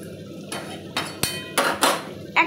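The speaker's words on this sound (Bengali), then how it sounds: "ধনে পাতার কুচিটা দিয়ে আমি একটু এইভাবে নেড়ে দেব।" A spoon clanks against a pan while doi rui, a fish curry, is stirred with chopped coriander leaves: several separate metallic scrapes and knocks, close and fairly loud, with a faint voice in the background.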